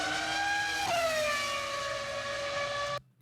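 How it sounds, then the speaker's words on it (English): A V10 Formula One race car screams at very high revs, one sustained harmonic wail with a sharp upshift near the first second, then a slow falling pitch before it cuts off abruptly. "Formula One cars have a new soundtrack through the introduction of V10 engines."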